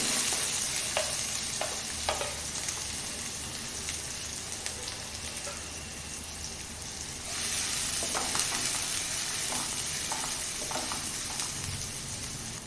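Two finely chopped medium onions sizzle in a pan of hot oil for a potato curry, a steady close frying hiss with occasional stirring scrapes and a brief shift in intensity midway.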